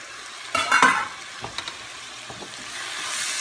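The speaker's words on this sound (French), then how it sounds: "on fait revenir notre boulgour à l'intérieur" Bulgur sautéed in a pan with salt, a few sharp stirring scrapes and clatters early on, then a soft steady sizzle building toward the end.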